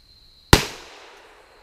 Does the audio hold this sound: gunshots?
yes